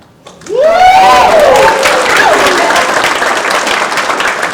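A crowd of new scholars and mentors at a STEM Institute orientation bursts into loud cheering and applause, with whoops rising over dense, sustained clapping that carries on to the end.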